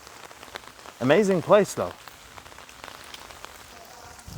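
Steady rain falls on a mountain path leading to a tower, a constant soft patter throughout, with a short spoken remark briefly rising over it.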